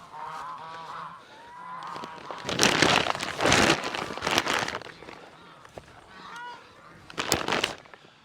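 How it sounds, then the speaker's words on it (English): Farm geese honk loudly and repeatedly in harsh, uneven bursts, with scuffling movement and nasal calls close by, and a person's voice briefly mixed in among the honks. "Stupid geese."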